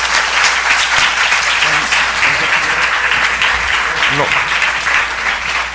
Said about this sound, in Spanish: por favor un aplauso para Emilio.